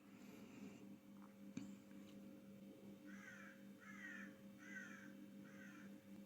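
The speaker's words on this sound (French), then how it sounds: "j'ai les corbeaux qui valident" Crows cawing outdoors, a faint call early on and then four evenly spaced harsh caws in a row, heard over a steady low hum with no talking.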